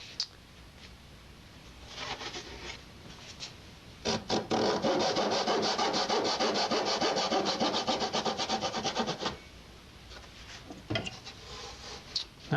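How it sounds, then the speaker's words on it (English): A handsaw cuts a wooden guitar brace in a luthier's workshop, starting with a few tentative strokes and then settling into a steady rhythmic run of close, rasping saw strokes before tapering off to scattered scrapes. "now I have to cut these braces and fit them to the curved"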